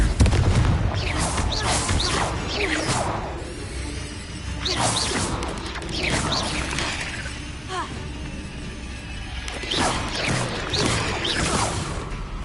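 Repeated Confringo fire spells in Hogwarts Legacy blast and crash one after another, each whooshing cast ending in a sharp explosive smash amid combat.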